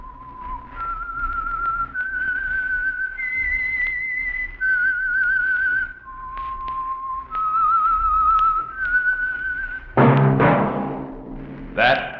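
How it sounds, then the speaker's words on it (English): A clear whistled melody of steady held notes stepping up and down, the theme of the radio drama The Whistler, then a louder burst of sound near the end. "That whistle is your signal for the Signal Oil Program"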